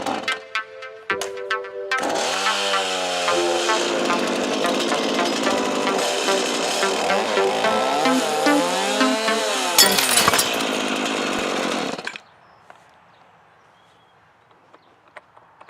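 An orange power gouge chain-carving attachment cuts into a wooden log with a loud, continuous buzzing roar. It follows a few short starts, runs for about ten seconds, then cuts off into quiet.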